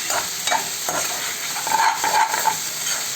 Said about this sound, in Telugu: మనం మధ్యలో ఇలా పచ్చిమిరపకాయ టమాటాలని వేయించేటప్పుడు ఇలా తిప్పుకుంటూ ఉండాలండి.